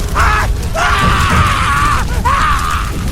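Film monster screaming in pain as its body burns, two long, loud, wavering shrieks separated by a short gap, close and harsh over a rumbling background.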